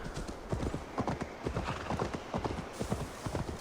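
Steady horse hooves clip-clopping at a walking pace on hard ground in the video game Assassin's Creed Valhalla, a regular close rhythm of hoofbeats with a faint ambient bed beneath.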